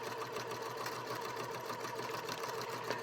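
A sewing machine runs steadily while stitching fabric basket pieces one after another, a continuous even mechanical whir with fine rapid needle ticking, close and alone.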